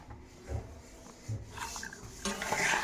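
Mixed vegetable pickle with mustard oil being stirred in a pot, giving soft scraping and clinking of a utensil against the metal in irregular strokes, close and moderately quiet with no talking.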